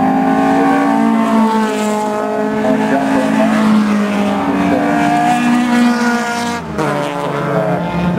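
Race cars roar flat out on a sprint course at a motor festival, one continuous loud engine note rising and falling in pitch as a car accelerates and passes close by, with no talk over it.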